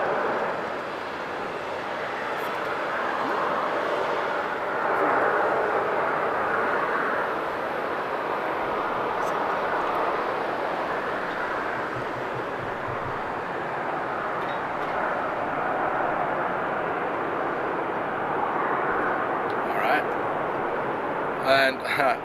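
Airbus A380 airliner at Amsterdam Schiphol Airport, a broad distant jet roar that holds steady for over twenty seconds, with a voice talking over it throughout.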